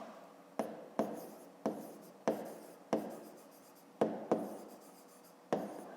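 A pen writes numbers on paper during a fifth-grade math exercise, making soft, close scratching strokes, about eight short scribbles in an uneven rhythm.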